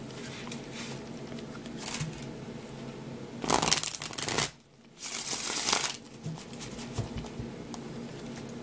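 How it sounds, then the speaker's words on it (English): Several quick bursts of riffling tarot card shuffles, a louder flurry midway with a brief pause, set against a soft low background hum. "Let me do one more shuffle."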